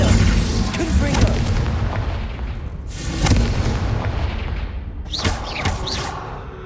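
Repeated spell explosions in Hogwarts Legacy, including the Confringo blast: loud, booming bursts and crackling impacts in quick succession, with game effects and faint voices mixed in.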